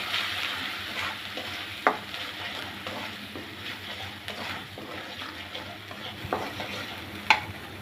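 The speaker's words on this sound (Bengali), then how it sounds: "দিয়ে ভালো করে নেড়ে নিব।" Spices stirred into frying ginger and garlic in a pan for prawn biryani, with a steady sizzle and scraping strokes of a spoon, a few sharper clinks standing out.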